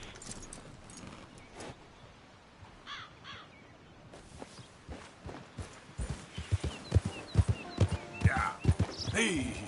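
Horse hooves clip-clop at a walking pace in a PS4 video game, growing louder and more distinct toward the end, with crow caws and soft background ambience around them.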